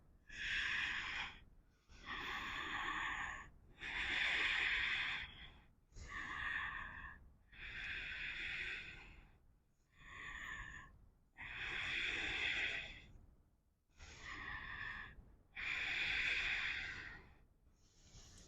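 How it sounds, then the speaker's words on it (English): Long, deep yoga breaths during a morning vinyasa flow, a steady cycle of slow inhales and exhales, each lasting about two seconds, close and alone with short pauses between. "Five long, expansive inhales and exhales here."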